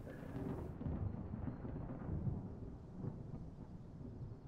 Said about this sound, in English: I'm assuming you just heard that thunder, right? Yeah, building storms for sure.